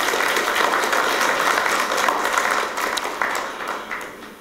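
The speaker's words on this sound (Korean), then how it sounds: "여러분들께서 박수 한번 쳐주시면 제가 힘을 더 내겠습니다." An audience applauds at a city anniversary event in Sejong for the mayor's second year in office, steady dense clapping that fades slightly toward the end.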